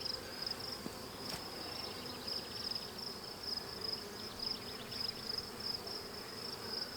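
Honey bees buzz around an open hive, a soft continuous humming drone with individual bees passing close now and then, quiet and without speech.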